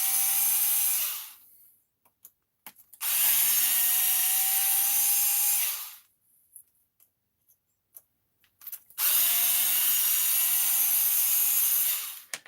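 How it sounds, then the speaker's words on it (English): A power driver backs screws out of an Arrma Fireteam RC truck differential in three loud, close whirring bursts of about two seconds each, with short quiet gaps and small clicks between them. "I got the driver here just to get these screws out of here"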